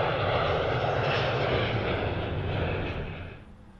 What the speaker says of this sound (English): There's our Airbus 319 in from Miami.